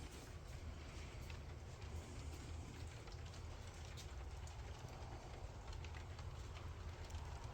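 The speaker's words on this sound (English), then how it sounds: "It's just rain. It's cold outside." Rain falling in a steady, soft hiss with light scattered pattering, faint and continuous beneath a low background rumble, no talking.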